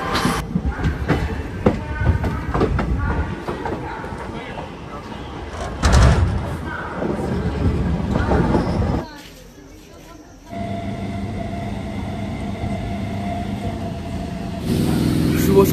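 An express train out of Bandel rolls along the rails with a steady rumbling clatter under talking voices. The noise drops to a hush for a moment midway, then the rolling resumes.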